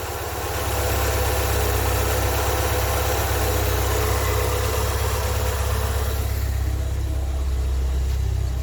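A car engine idles loudly and close in a steady low rumble, its revs easing down slightly toward the end.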